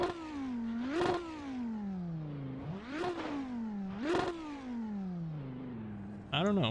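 A race car in the Assetto Corsa video game heard from behind, its engine repeatedly revving up to sharp peaks and dropping back through gear changes, loud and close, in several rhythmic bursts.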